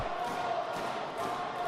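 Pro wrestling crowd at a steel cage match, a dense roaring cheer that stays loud and continuous through the whole short stretch, no clear voices above it.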